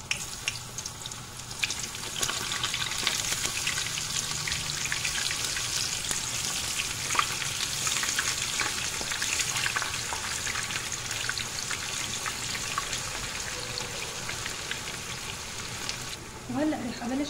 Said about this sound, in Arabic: فراح ابلش انزل فيها البطاطا او انزل فيها الباذنجان